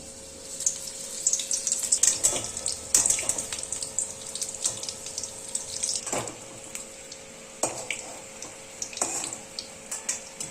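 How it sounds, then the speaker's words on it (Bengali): Jackfruit flower pakoras fry in hot oil, giving a steady sizzle broken by sharper crackling bursts as pieces go into the pan one after another. "তেলটা গরম হয়ে গেছে আমি একটা একটা করে এই পাকড়াগুলো ছাড়বো"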